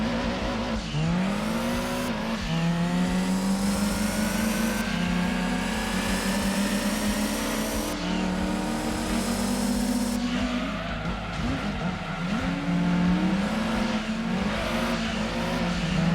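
A pack of race cars in Gran Turismo 2, a Mustang among them, roar continuously at close range, their engines rising and falling through gear shifts with occasional tire squeal, the droning pitch sweeping up again and again.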